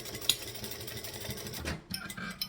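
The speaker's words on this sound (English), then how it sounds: "We are going to stitch and back stitch." Sewing machine stitching forward and back through vinyl at a long stitch length, a steady rapid mechanical whir that pauses briefly, then resumes in shorter bursts.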